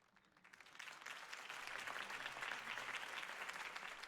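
Crowd applause after Harvey Dent's campaign speech in Batman: The Telltale Series swells from quiet to a full, sustained ovation of many clapping hands, heard at a distance without any talking.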